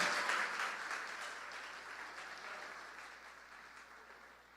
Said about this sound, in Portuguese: Vamos dar uma salva de palmas para ele?